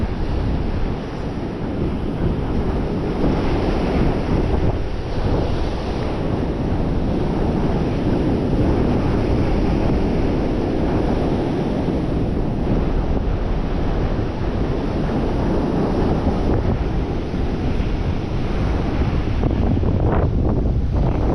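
Big ocean waves crash and roar continuously under heavy wind buffeting the microphone during a fishing trip, a loud, dense wash of surf and gusts with no clear voices throughout.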